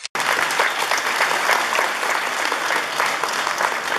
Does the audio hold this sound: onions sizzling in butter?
no